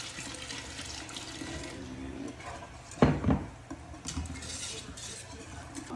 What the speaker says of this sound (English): Then I'm just gonna stir it,